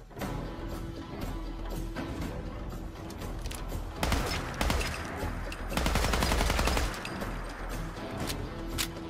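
An assault rifle fires in Fallout 4 with the DAX Assault Rifle Replacer Redux mod. Repeated sharp shots and rapid bursts build to a louder barrage midway, with mechanical clatter in between and no speech.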